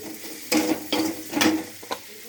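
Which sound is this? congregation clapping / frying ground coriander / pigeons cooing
frying ground coriander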